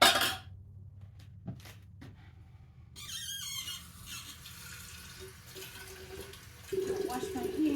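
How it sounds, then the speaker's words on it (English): Tap water runs into a kitchen sink while hands are washed and a jar is filled, a hissing splashing stream that starts after a quiet stretch with small clinks and continues steadily. "And while I'm washing my hands, I'm also filling up this jar"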